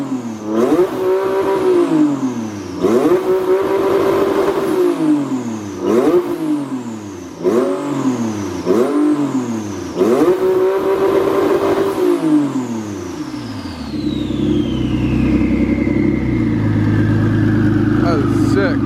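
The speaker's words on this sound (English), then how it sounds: "Mike, can you film a clip of me bouncing this off rev limiter?" A Mitsubishi Evo 5 engine revs hard into the rev limiter again and again, bouncing off it in a rapid stuttering rhythm for about twelve seconds. It then drops to a rough idle as the revs fall. The sound is loud and close, in a shop.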